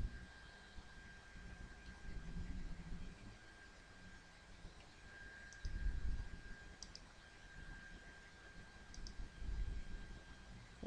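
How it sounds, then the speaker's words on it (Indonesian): Mouse scroll wheel clicking during an AutoCAD 2009 session, faint, quick ticking bursts over a steady computer hum in a quiet room, with no talk. "Untuk mengaksesnya itu dengan cara scroll pada tombol scroll di mouse"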